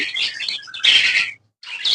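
A bird sitting on its eggs gives bright, rapid chirps and twittering calls in close bursts, with a brief silent gap before the calling resumes.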